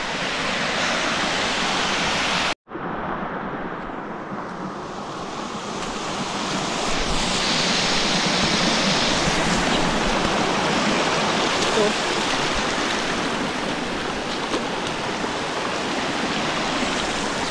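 Tarias Falls, a rain-swollen waterfall in San Jose, Antipolo, Rizal, roars loud and continuous with a brief drop out early on, then swells slightly with wind rushing over the pouring water.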